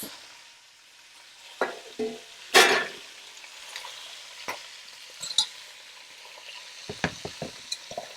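Jamaican cook-up corned pork frying in a pot, with a low sizzle under sharp scrapes and clatters of stirring, including one loud scrape early and a quick run of knocks near the end; no talking.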